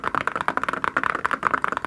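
Fast typing on a custom Peak60 mechanical keyboard fitted with thick ceramic keycaps, producing close, deep, rounded thocky keystrokes in a quick irregular stream of distinct clicks, with no talking.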